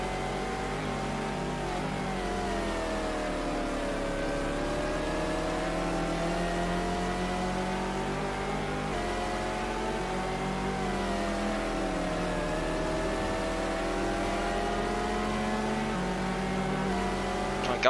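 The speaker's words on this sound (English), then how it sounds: "Just watch how he overtakes us down the straight." Audi race car overtaking on the straight in a 2000 24 Hours of Le Mans racing game, a steady high-revving engine whine climbing and shifting pitch through gears, loud and continuous.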